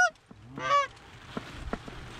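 Geese honk overhead during a goose hunt in Oregon, one loud close honking call followed by fainter scattered calls against outdoor ambience.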